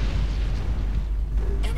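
Missile explosions in the mech combat video game Hawken, a heavy low rumbling blast that sustains over the whole moment, with a brief higher burst near the end.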